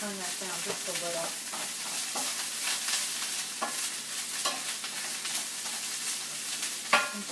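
Beef cooks in a pan with a continuous soft sizzle, broken by intermittent clicks and scrapes of a utensil, heard close at low to moderate volume. No voices.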